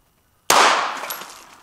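A single Glock 42 pistol shot cracks sharply outdoors after a moment of silence, followed by a fading echoing tail lasting about a second.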